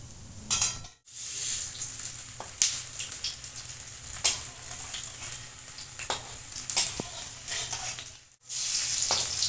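Bread pakoras deep frying in hot oil, a continuous loud bubbling sizzle with scattered crackles and occasional utensil taps, broken by two short gaps of silence.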